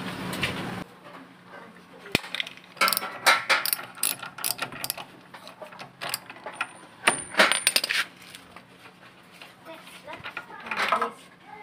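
Ratchet wrench clicking in uneven bursts while loosening the spark plug on a Promate 1500 gasoline generator with a no-crank, no-start fault, close up, with brief clanks between strokes.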